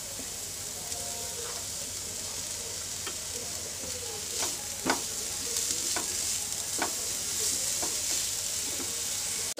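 Green chillies and carrots fry in a pan with a steady close sizzle, broken by several light scraping strokes of a stirring spatula and ending in a sharp clack, with no one talking.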